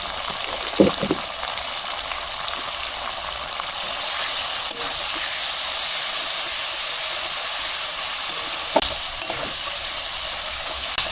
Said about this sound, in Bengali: গরম মশলাটা আমার ভাজা ভাজা হয়ে গেছে